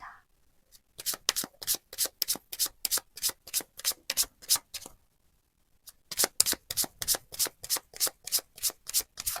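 Lenormand cards are riffle-shuffled close up in two quick bursts of rhythmic, papery flicks, separated by a short pause, with no voice over them.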